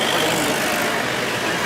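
A small street water-spraying truck passes through Prague, a steady broadband wash of engine and spray noise that stays loud and constant throughout, with no talk heard.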